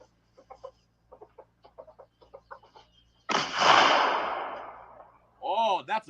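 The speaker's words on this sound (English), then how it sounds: "chickens are right there." Chickens cluck in a rapid run of short, close clucks, then a loud hissing burst swells and fades before a few more squawking calls break out.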